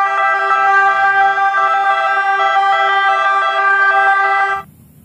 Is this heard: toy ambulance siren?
yes